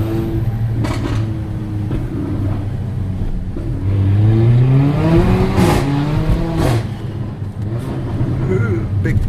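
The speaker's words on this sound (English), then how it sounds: "Ooh, it's like a whistle." Mercedes-AMG GLA 45 Edition 1 turbocharged engine accelerating hard, a rising engine note with a turbo whistle climbing over the exhaust roar, close and loud, with someone talking over it.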